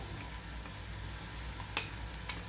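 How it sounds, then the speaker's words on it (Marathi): A ground bitter gourd mixture with turmeric sizzles steadily in hot oil, a soft, close crackle broken by a few sharper pops as it is sautéed. "हे पण आपल्याला तेलावर छान परतून घ्यायचं आहे"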